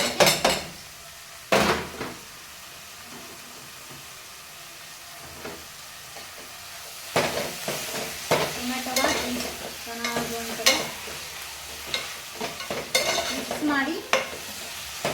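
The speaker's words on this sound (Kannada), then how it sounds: "ಜಾಸ್ತಿ ಚೆನ್ನಾಗಿ ಫ್ರೈ ಆಗಿದೆ ಚೆನ್ನಾಗಿ ಬಂದಿದೆ ಈಗ ನಾನು ಟೊಮೆಟೊ ಹಾಕೊಳ್ತೇನೆ" Tomato frying with prawns in a pan for pulimunchi, with a steady sizzle and repeated clattering and scraping strokes of a spatula against the pan, loud and close, with a pause in stirring in the middle.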